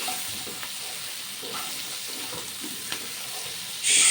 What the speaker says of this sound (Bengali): দিয়ে দিলাম ঢ্যাঁড়সগুলো। এবারে নাড়াচাড়া করে নিচ্ছি।